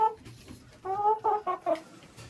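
Broiler hens clucking nearby, a few short, clear clucks in a quick uneven series, with soft background noise between them.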